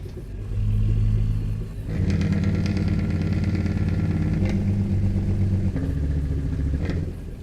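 Heavy truck engine in American Truck Simulator, loud and steady with a deep throbbing rumble throughout, a brief dip near two seconds before the low pulsing drone resumes and holds, no voices present.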